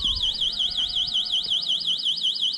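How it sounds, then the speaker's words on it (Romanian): The anti-theft alarm of a Kugoo M4 offroad electric scooter wails loudly in a rapid, continuous warbling siren throughout, alone without talk. "asta e foarte interesant, alarma asta pe care o are"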